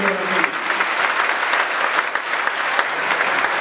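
An audience at an orchestra's anniversary concert gives sustained, dense applause for a musician, steady and fairly loud throughout with a faint voice underneath.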